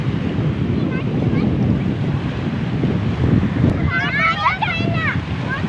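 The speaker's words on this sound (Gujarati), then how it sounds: "મોજા આવે છે આપ જોઈ રહ્યા છો" Sea waves wash onto a beach where children play, a loud, continuous rushing roar mixed with wind buffeting the microphone, with brief voices toward the end.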